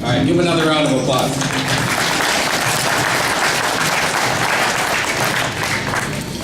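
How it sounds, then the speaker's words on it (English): A college graduation crowd applauds loudly, the clapping swelling quickly after a brief spoken moment and continuing as a dense, sustained roar throughout. "give him another round of applause"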